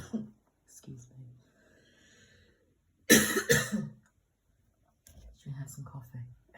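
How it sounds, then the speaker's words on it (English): A woman coughs in a short, loud burst of several coughs, with softly spoken talk before and after. "Let's see if some coffee helps with this coughing."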